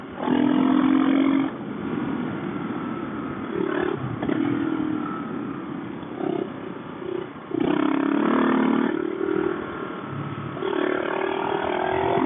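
Dual-sport motorcycle, a DR650 or KLR650 fitted with a Mikuni carburetor, revs hard and falls back repeatedly as its rear wheel spins out on loose ground. The loud engine sound surges and dips across the whole stretch, heard close from the bike.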